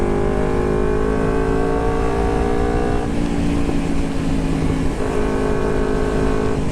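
Old carbureted Kawasaki Ninja 250 motorcycle fitted with a Termignoni exhaust, with standard-size pilot jets, revving loudly and close, its steady droning note rising and falling in pitch with the throttle across several revs.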